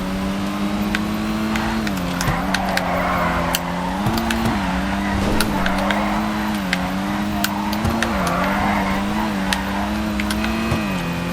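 A Kanjo SJ, a Honda Civic-style car in GTA 5, drives with a steady engine drone whose pitch dips and climbs with gear changes and throttle, punctuated by sharp clicks and bumps.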